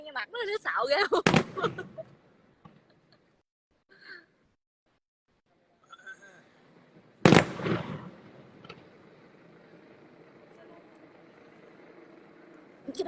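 Fireworks crackle in two sharp bursts, then a long, fading sizzle as the sparks fall, with people talking and gasping nearby.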